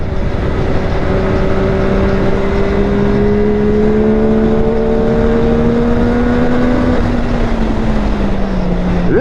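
A Yamaha R9 motorcycle accelerates hard, its engine note climbing steadily in a loud, continuous whine under heavy wind roar, with no pause and no talking.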